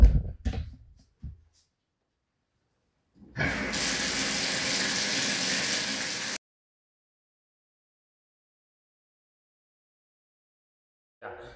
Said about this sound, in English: you have to use the hottest water that you can get out of your faucet